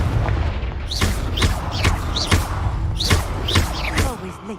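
Repeated booming blasts from a Confringo fire spell in a video game, about eight punchy impacts roughly every half second over a continuous rumbling low-end bed, loud and close.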